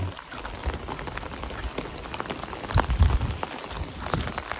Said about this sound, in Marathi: 4-5 दिवस मुसळधार पाऊस पडतोय